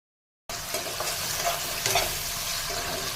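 Potatoes fry in a pan, a steady close sizzle that starts abruptly after a brief silence and continues evenly, with soft stirring scrapes and no voices.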